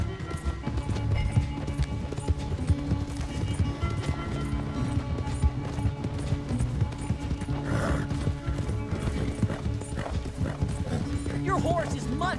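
A horse gallops in Red Dead Redemption 2, with rapid rhythmic hoofbeats and a whinny running throughout as lively voices talk and cheer over it.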